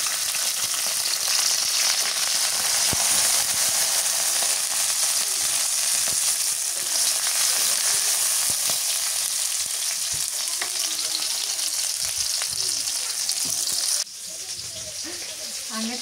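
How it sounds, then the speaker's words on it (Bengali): Onion and garlic fry in oil for a bottle-gourd greens mash, a steady close sizzle that runs unbroken, then drops quieter near the end, with faint voices now and then in the background. "আগে পেঁয়াজ রসুন তেল দিয়ে ভেজে নেই"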